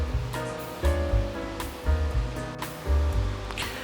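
Pancake batter made with baking powder, a pinch of cinnamon and vanilla essence is stirred in a bowl, giving rhythmic, repeated swishing strokes, fairly close, over faint background music.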